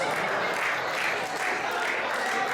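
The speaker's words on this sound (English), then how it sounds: "Why are you guys clapping?" Steady, loud audience applause fills a stand-up comedy show, a dense wash of many hands clapping at once with no break for the whole stretch.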